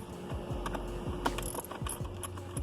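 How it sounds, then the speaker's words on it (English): A hex key loosening the engine cover bolts on a BMW N54, a close, quiet run of ratcheting clicks and small metallic ticks in an even rhythm. "Finally, we're gonna take the engine cover. You need a hex key."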